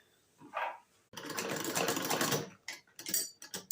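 A sewing machine stitching a bushcraft bucket bag, a short whirring burst followed by a longer continuous run of rapid mechanical stitching, then a few quick stop-start bursts, close and clear with no talking.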